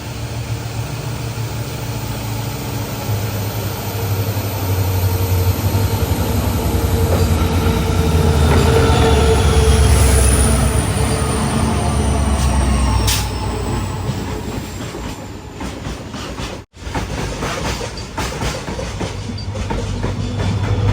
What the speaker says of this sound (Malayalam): ഒരു ട്രെയിൻ ക്രോസ് ചെയ്യാൻ വേണ്ടി ഗുഡ്സാണിത്